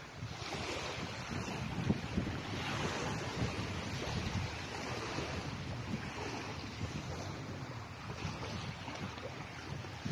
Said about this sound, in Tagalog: Napakalawak ng dagat.